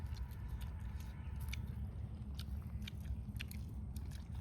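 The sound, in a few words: someone chewing food quickly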